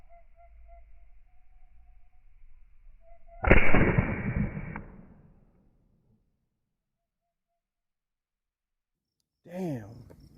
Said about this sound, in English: All right, downrange. Let's shoot.